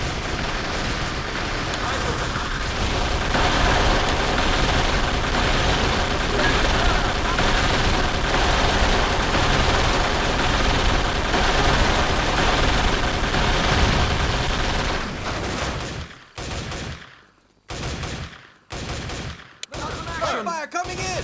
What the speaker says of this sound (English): Fire coming in!